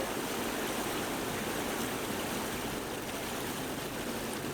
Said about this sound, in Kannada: ನದಿಗಳು ತುಂಬಿ ಹರಿತಾ ಇರುವಂಥದ್ದು